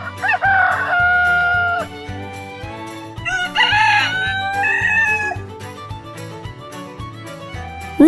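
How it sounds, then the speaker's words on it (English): A rooster crows twice, each call long, loud and close, over a steady rhythmic music track with light percussive beats. "rooster,"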